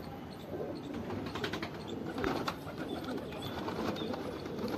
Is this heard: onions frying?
no